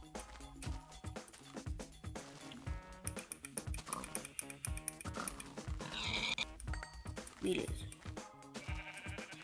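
Sheep bleat in a Minecraft world over busy game music and sound effects, the calls mixed in among other noises while someone talks throughout.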